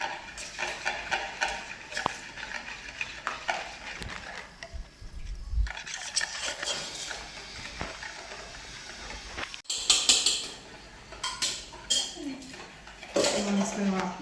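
Batter being stirred by hand in a bowl for a chocolate brownie as sugar is added, with scattered scraping and clinks against the bowl and faint background noise.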